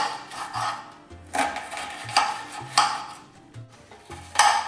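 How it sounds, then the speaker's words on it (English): A well-sharpened kitchen knife dicing onions into small squares on a wooden board, heard close up as repeated crisp scraping chops in an irregular rhythm with short pauses between strokes. "So now you chop them up in little bits, in little squares."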